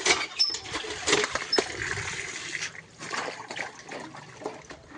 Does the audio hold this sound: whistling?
no